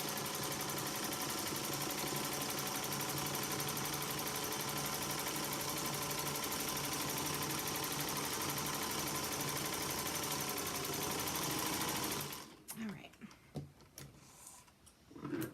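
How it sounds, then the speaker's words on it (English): A sewing machine runs back and forth while quilting, a loud, steady mechanical whir that lasts about twelve seconds and then stops, leaving a few faint handling knocks. "This machine is a dream to quilt on."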